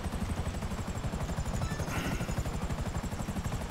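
Helicopter in GTA 5 Online, its rotor chopping in a steady, rapid low pulse with a continuous engine whine above, loud and close throughout.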